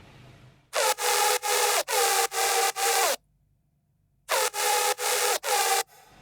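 A bright, buzzy Serum synth layer from the second part of the drop, pitched up an octave, blasts in loud, rhythmic stabs: five in a row, a short gap, then four more.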